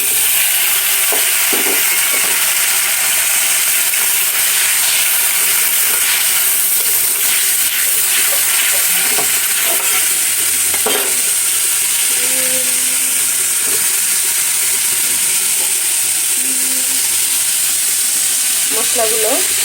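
Small fish are fried in spiced oil in a cooking pot for a curry, producing a continuous loud sizzle with scattered stirring scrapes and light metallic clinks throughout.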